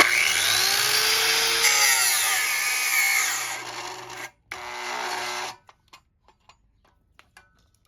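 Thick 2/0 copper battery cable is cut with a tool, giving a loud, close grinding whine that shifts in pitch for about five seconds, then stops and leaves a few sharp clicks.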